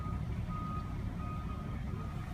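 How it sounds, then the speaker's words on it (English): A fire truck backs up outdoors, its reversing beeper repeating as a steady tone over a deep rumbling engine idle, continuous and fairly close. "And there's a fire truck that's backing up."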